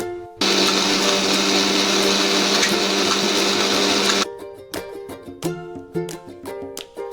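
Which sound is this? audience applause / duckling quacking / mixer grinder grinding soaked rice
mixer grinder grinding soaked rice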